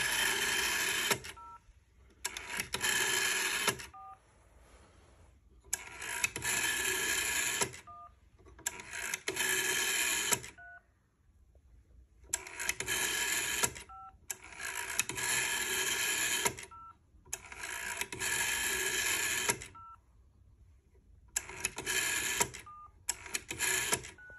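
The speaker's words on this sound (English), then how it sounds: "Now you could hear those tones, that's actually the dial gizmo" Long bursts of telephone dialing tones from an NZPO 332 telephone calling a GPO 706 alternate with gaps, repeating steadily over about twenty seconds, loud and close, with faint beeps between the bursts.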